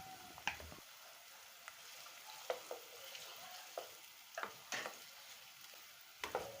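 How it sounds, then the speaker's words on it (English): Onions and the white part of spring onions frying in hot oil in a pot, a steady soft sizzle broken by a few sharp crackles and stirring clinks, with no one talking. "once it heats up, I'll start by adding onions and fry it for about a minute"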